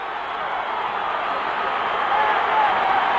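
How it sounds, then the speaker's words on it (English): A wrestling arena crowd cheering during a match: a dense, constant roar of many voices that swells slightly toward the end, heard from a distance. "Oh, this crowd is going crazy."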